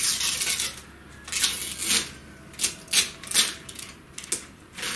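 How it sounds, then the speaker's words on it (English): Protective plastic film being peeled off laser-cut acrylic parts, a series of crackly ripping bursts and soft crinkles, fairly close and alone. "peeling this protected layer of plastic off like this"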